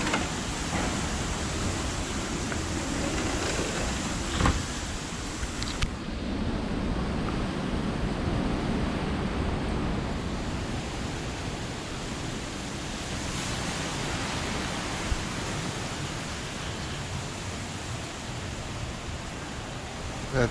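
Hurricane Milton wind roaring outside a porch, a loud continuous broadband rush like surf that swells and eases for the whole stretch, with no talk.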